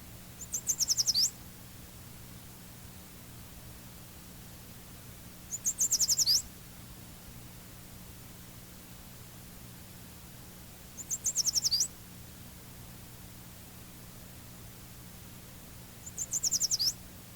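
Yellow warbler song: four short, bright, rising-then-falling phrases repeat at even intervals of about five seconds over a quiet, steady background hum.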